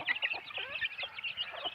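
Native deshi chickens on a farm cluck softly and continuously in a brief, close burst of chatter, several birds overlapping.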